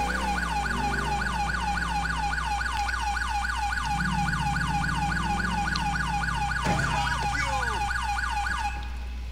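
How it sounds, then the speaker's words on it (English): Police car siren in GTA IV from an unmarked Ford Taurus, wailing in fast rapid cycles, loud and close over the low engine drone, with a brief horn-like burst near the end. "Always forget about my freaking sirens."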